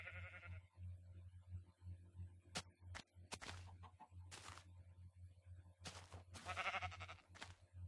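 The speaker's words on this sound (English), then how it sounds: "Weird sounds coming from the sheep here." Sheep in Minecraft giving a string of short, odd bleating calls, several separate bursts spread across the moment, fairly close over a low steady game hum, with no talk.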